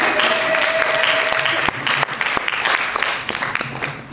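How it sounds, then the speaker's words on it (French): A church congregation applauds in a dense, sustained wash of clapping, loud and continuous, with a few brief shouts and a faint held tone early on. "acclame bien"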